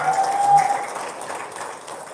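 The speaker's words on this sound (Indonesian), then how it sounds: "Tepuk tangan dulu dong." An audience at a religious talk claps together, a burst of brisk applause close by that gradually thins and fades out.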